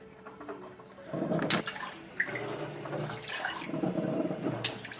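Water poured into a pot of organic chia seeds in a home kitchen: a soft, close splashing and trickling pour that swells and continues unevenly for several seconds, fairly quiet overall.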